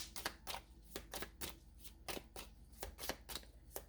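Tarot cards being shuffled, a run of crisp riffling bursts repeating in a steady rhythm, close and fairly quiet, with no talking over it.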